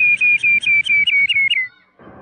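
A person imitates a sparrow with a quick series of about seven bright, high whistled chirps, loud and close, before falling quiet.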